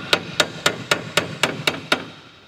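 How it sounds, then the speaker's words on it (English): A hammer knocks tight hardware out of a Messerschmitt Bf-108 aircraft part under restoration, striking eight sharp, evenly spaced metallic blows at close range with no talk. "So we probably will have to get a hammer."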